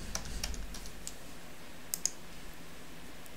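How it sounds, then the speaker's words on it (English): Someone types a security code on a computer keyboard while resetting a password, producing a few soft, scattered key clicks. Two sharper taps land near the middle against a quiet background. "I'll type in my security code."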